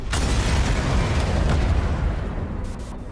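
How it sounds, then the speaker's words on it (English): A heavy explosion in the Watch Dogs Legion game trailer, a loud sustained rumbling blast that fills the sound and slowly fades over a few seconds. "Now it's all riots, bombings"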